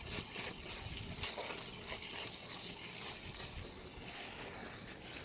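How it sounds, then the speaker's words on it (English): Water thrown into a hot barrel to put out a fire produces a steady hissing, gushing spray with sizzling edges, fairly faint and continuous, with a few brief louder surges. "That's because I'm throwing the water in the barrel."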